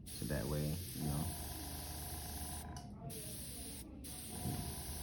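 An airbrush sprays paint for nail art with a steady, close hiss that runs throughout while people talk over it.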